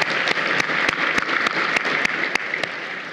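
Audience at a Hall of Fame ceremony applauds in a steady, dense wash of clapping with sharper individual claps popping through, sustained and fairly close throughout.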